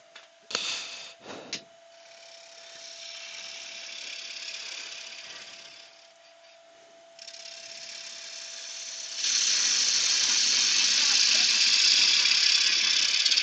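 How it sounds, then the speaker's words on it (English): A gouge cuts a piece of wet wood spinning on a lathe, with a whirring motor hum and a rising scraping hiss as the tool bites, then a louder steady cut toward the end, with brief bumps early on. "It's turning nice anyway. It's a lovely piece of wood to turn."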